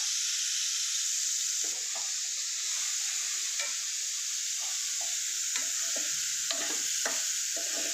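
Cumin seeds sizzle in hot oil in a pan, a steady close frying hiss with scraping stirring strokes of a spoon breaking through at irregular moments, no talking.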